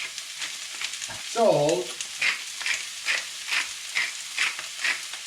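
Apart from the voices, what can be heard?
vegetables sizzling in a stir fry pan with seafood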